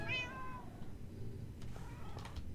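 In the Minecraft video game, a cat lets out a single short, faint meow at the very start, followed by quiet game ambience with a few soft clicks and no talking.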